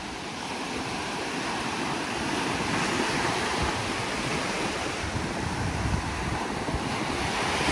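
Ocean waves washing onto an eroding beach, a steady loud broadband roar of surf mixed with wind buffeting, close and continuous with no voices.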